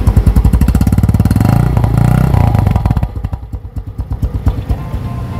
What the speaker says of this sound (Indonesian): Mesin-mesinnya kita dengerin langsung aja.